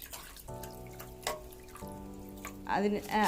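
Diluted acid poured into a rubber latex dish, a thin trickling and splashing of liquid under steady talk, ending in a brief fuller gurgle.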